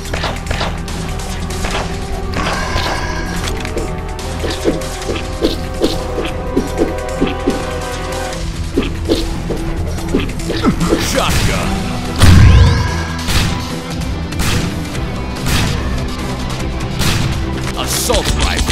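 Pistol gunfire in the zombie video game Zombocalypse 2, a run of sharp repeated shots with booms, crashes and impacts layered over busy game sound effects.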